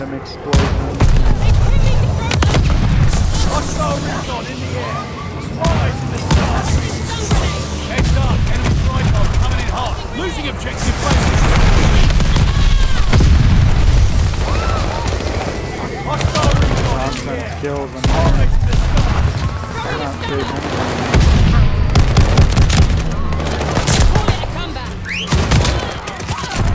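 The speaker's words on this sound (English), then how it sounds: "Shotgun blasts" Repeated shotgun blasts crack out in the video game Vanguard within a continuous, loud battle soundscape of gunfire and booming impacts lasting nearly half a minute.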